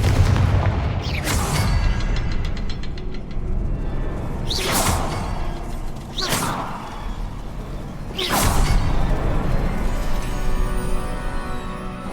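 Three fiery Confringo spell blasts cast in Hogwarts Legacy, each a loud whooshing burst with a booming tail, spaced a couple of seconds apart over a rumbling ambient background.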